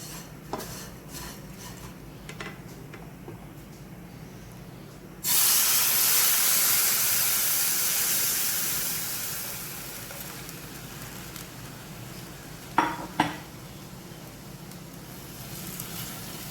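Milk poured into a hot pan of fried vermicelli sets off a sudden loud hissing burst that slowly fades, with quieter pan sounds before it and two sharp clinks near the end.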